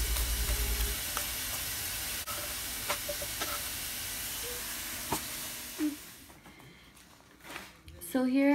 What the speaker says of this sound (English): So here are some uncooked tortillas that I'm just gonna put in a skillet